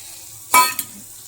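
Water poured into simmering manchurian gravy in a pan, a single sharp hissing sizzle burst with a brief second splash just after, close and loud against an otherwise quiet kitchen.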